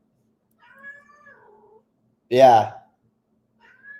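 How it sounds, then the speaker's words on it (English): A house cat meows twice, a drawn-out wavering call and then a louder, shorter cry, close to the microphone in a quiet room, with a brief spoken word in between. "I don't know if you can hear my cat was meowing"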